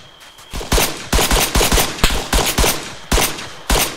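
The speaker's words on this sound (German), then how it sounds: "Ich hab auch noch mit auf ihn geschossen." Loud bursts of gunfire from Arma 3, single shots and short rapid volleys repeating roughly every half second, close and sharp with no talking.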